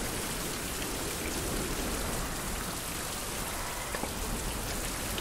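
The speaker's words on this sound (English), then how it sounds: "Back to light rain." Light rain falls in a survival video game as a steady, even hiss of drops with no breaks, moderately quiet and without any voices.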